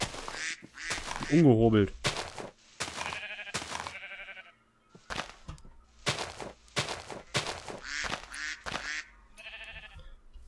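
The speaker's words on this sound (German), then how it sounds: "Da unten lacht mich die Ente aus." Cartoonish duck quacks from the video game Life in the Woods, a short burst of repeated nasal calls near the start, mixed in with game sounds while someone talks over them.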